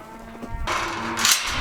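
Cattle being herded into a pen at a branding, a close, loud moo that rises and carries for about a second, over faint background noise.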